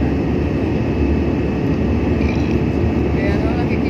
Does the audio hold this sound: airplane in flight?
yes